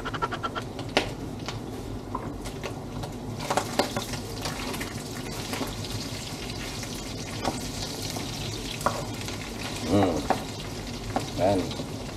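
Garlic and shrimp fry in a pot with a strong, continuous sizzle, broken by stirring and scraping clatter. The cooking is close and loud, with no talk over it.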